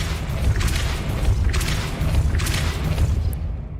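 Repeated booming spell impacts from Hogwarts Legacy's Depulso force-push spell, loud rumbling bursts recurring about every second over dense low game noise, with no talk.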